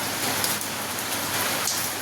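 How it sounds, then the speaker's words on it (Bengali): Heavy rain falls steadily, a loud, dense hiss of drops striking surfaces close by with no pauses or voices. "দেখতে পাচ্ছ বৃষ্টি কিন্তু খুবই সুন্দর লাগছে"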